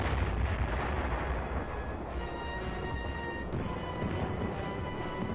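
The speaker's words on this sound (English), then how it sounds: "the artillery and mortar units inch their fire slowly forward" Sustained artillery and mortar fire from Korean War-era army combat footage, a dense continuous rumble of distant barrage blasts rolling on without pause, loud and unbroken with no talk over it.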